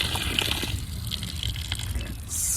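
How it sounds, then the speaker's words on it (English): Water gushes steadily from an outdoor sillcock into a hole in the ground, a continuous close splashing rush with a brief brighter surge near the end. "I got water going straight into a damn hole."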